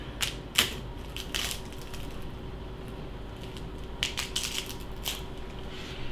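A knife cutting a crispy thin-crust buffalo chicken tortilla pizza, a few sharp crunchy cracks in short clusters, quiet and close against a low background hum.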